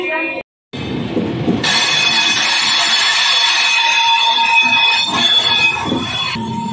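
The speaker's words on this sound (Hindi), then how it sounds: "departure from Saharanpur railway station" Train departing Saharanpur railway station, loud steady rumble of wagons with high squealing wheels and a brief cut near the start, continuing close and constant throughout.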